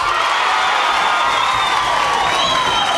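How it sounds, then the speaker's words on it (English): A football crowd at TIO Stadium during an NTFL qualifying final between Tiwi and St Marys cheers wildly, a loud, continuous wash of shouting and whooping with shrill whistles cutting through. "And the crowd is going wild here at TIO Stadium."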